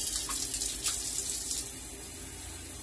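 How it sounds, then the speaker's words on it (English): Tap water runs steadily over coleus cuttings as their roots are rinsed beneath it, giving a continuous soft hiss and splash that stays close and fairly quiet, with a few brief louder spatters. "Gently rinse it. Just give it a little bath like this and rinse it."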